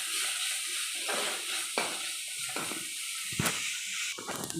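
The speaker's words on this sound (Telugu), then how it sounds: "ఇప్పుడు క్యారెట్ తురుము వేసుకొని కలుపుకుందాం." Grated carrot is stirred in a frying pan, a soft steady sizzle with a series of gentle scraping strokes about once a second, close and fairly quiet, with no voices.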